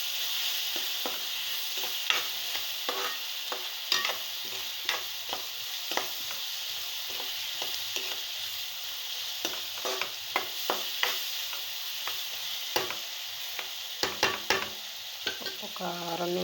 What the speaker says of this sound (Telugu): ఈ రెండు ఇప్పుడు బాగా మిక్స్ అయ్యేలా కలుపుతున్నాను